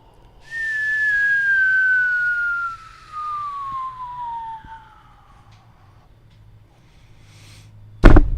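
A person whistles a long sliding tone that falls steadily in pitch, breaks briefly, continues downward, then fades before a sharp loud burst at the end.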